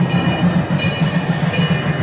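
A miniature park railroad train at Irvine Park Railroad's pumpkin patch rolls into its station, wheels clacking rhythmically over rail joints in a steady loud pattern, with periodic sharp bursts of metallic squeal.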